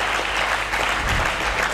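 A church congregation applauds together during a sermon by Pastor Godé Mpoy, producing a steady, dense wash of clapping that fills the space at an even, moderately loud level with no voices on top.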